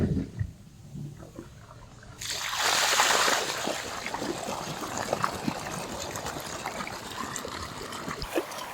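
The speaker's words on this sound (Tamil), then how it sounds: "இப்படி தண்ணி பாயிற அழகுதானுங்க காட்டுக்குள்ளே" Water running and trickling across the ground of an herb garden, a steady splashing flow that grows louder after a quieter opening, continuing without talk.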